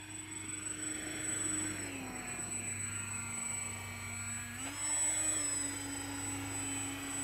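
Remote-control model Boeing 737 Max 9 airliner in flight, a steady whining electric ducted-fan drone that rises and falls in pitch as the throttle changes, moderately distant and alone.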